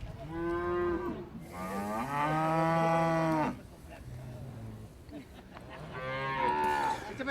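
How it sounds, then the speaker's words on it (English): A ranch cow moos loudly and close in several long, drawn-out calls, one sustained bellow followed by shorter lows and another rising moo, with no talking. "That's a Renato Ramirez cow."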